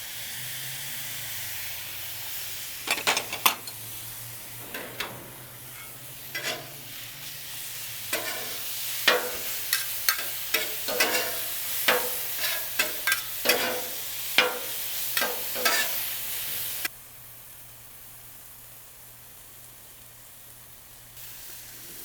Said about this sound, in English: Next, we're going to put in the kimchi.